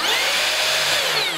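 A Makita 40V XGT brushless rear-handle 7-1/4 inch circular saw spinning freely with no cut, its high whine running at full speed, up close and loud for a short moment with no talk.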